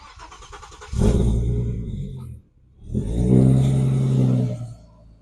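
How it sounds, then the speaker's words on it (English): A rear-wheel-drive Omega's engine cranks and catches at about one second, running with a deep rumble, dips briefly, then restarts and settles into a steady, loud idle while it warms up. "Okay, I'm going to let the engine just warm up to temperature."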